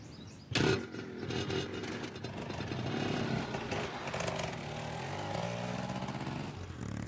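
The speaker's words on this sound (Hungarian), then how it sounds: "Legalább hadd indítsam be a motort." A motorbike or small engine is kicked into life with a loud burst, then settles into a steady running drone with a slight tremble that carries on for several seconds, close by and alone.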